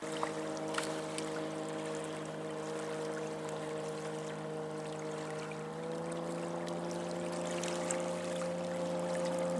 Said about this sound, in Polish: No i oczywiście łódki pływają po jeziorze. Robią trochę hałasu.